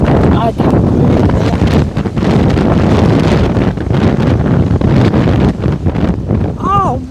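Strong gusts on an open golf course batter the microphone in a loud, continuous low roar, with voices faint beneath the buffeting.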